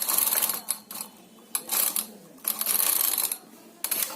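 A knitting machine's carriage is pushed slowly across to knit a single row, making bursts of loud, rattling mechanical clatter with short pauses between them.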